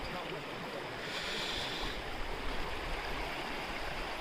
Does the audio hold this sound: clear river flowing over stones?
yes